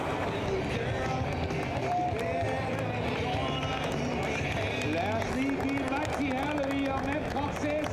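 Grandstand crowd cheering at a Prostock tractor pulling event in Brande, Denmark, a dense continuous roar of voices and shouts under a commentator talking throughout.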